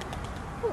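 A pigeon coos once, briefly and softly, near the end, over steady outdoor background noise by a pond where ducks and seagulls gather.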